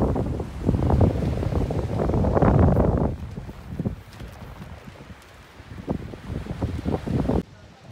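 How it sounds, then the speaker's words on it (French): Wind buffeting the microphone on a beach where kites are flown, strong rough gusts for the first few seconds, then easing to lower intermittent bursts before cutting off abruptly. "le vent s'est levé"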